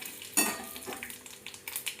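Dried red chilies, bay leaves and black cumin frying in hot oil, a soft sizzle with scraping stirring strokes and light clinks of a utensil against the pan.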